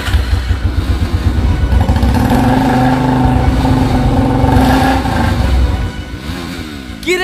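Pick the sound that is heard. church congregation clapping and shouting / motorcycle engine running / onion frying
motorcycle engine running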